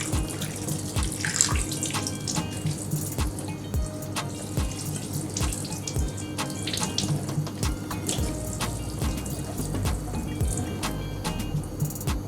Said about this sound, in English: wash it under running water, in order to remove any of the trapped scales.